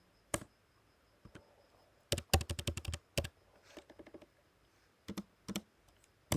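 Java stream code typed on a computer keyboard, heard as close, crisp bursts of rapid key clicks separated by short pauses, with no one talking.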